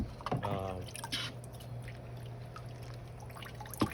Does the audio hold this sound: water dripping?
yes